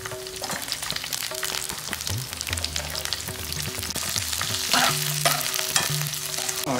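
Chopped onion pieces fry in a pan for a baby corn Manchurian, giving a constant close sizzle with stirring scrapes over soft background music.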